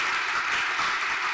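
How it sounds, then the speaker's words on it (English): A meeting audience gives a round of applause, dense continuous clapping from many hands at a steady level. "Another round of applause."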